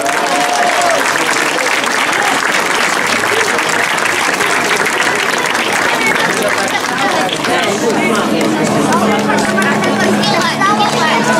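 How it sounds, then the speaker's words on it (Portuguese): Loud, sustained applause from an outdoor crowd at a festival queen parade, with dense clapping and crowd noise mixed with chatter throughout. "Para a Daniela, uma salva de palmas."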